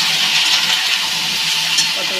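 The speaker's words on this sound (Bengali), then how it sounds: "পটলটা ভাজা করে নিই। পটল আলু ভাজা হয়ে গেছে" Pointed gourd and potato pieces fry in a pan with turmeric and salt, giving a loud, dense, continuous hiss of sizzling oil up close, steady throughout the short stretch.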